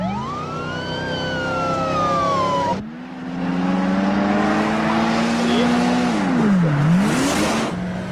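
An old Dodge Diplomat with a 318 V8 runs hard at high speed, around 90 mph, in a car chase. Its engine note rises and falls under wailing sirens, with voices talking over it.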